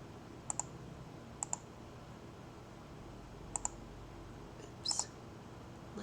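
A computer mouse gives a few sharp, quiet clicks, mostly in pairs, spread out over a low steady room hiss, with no talking.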